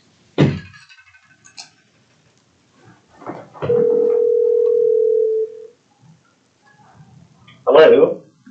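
Telephone dial tone heard while calling someone in during a public board hearing, a steady held tone of about two seconds between brief bursts of room noise and voices.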